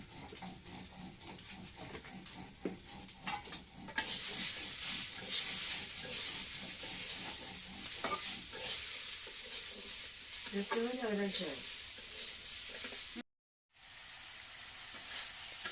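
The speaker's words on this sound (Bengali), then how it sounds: "ফুলকপি আর শিম কষানো হয়ে গেছে।" Cauliflower and beans being fried in a pan give a steady loud sizzle, with occasional stirring clinks and a brief squeaky scrape, cut by a short silent gap near the end.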